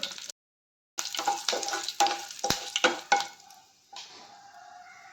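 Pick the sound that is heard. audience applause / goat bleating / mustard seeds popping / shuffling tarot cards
mustard seeds popping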